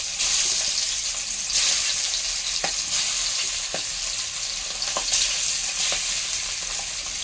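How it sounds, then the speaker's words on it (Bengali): Magur catfish pieces frying in hot oil in a kadai over a gas flame, a loud, steady crackling sizzle that swells now and then, with a few sharp clinks of a utensil. "তেল ভালোভাবে গরম হয়ে গেলে একে একে মাছগুলো দিয়ে দিচ্ছি"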